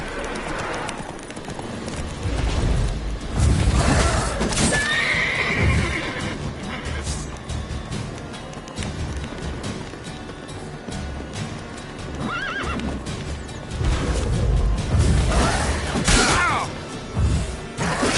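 A horse in The Witcher video game gallops with steady clip-clop hoofbeats and lets out loud neighs and whinnies over ambient game sound, with brief thuds along the way.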